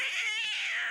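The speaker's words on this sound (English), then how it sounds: "This very pregnant, about-to-burst, distended nipple street cat." A cartoon street cat, a heavily pregnant stray, gives one drawn-out, wavering meow that sounds clear and close and has no voices over it.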